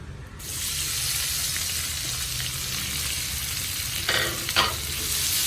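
Chopped onion frying in a pan, a steady, loud sizzling hiss with a couple of brief louder flare-ups near the end as it is stirred.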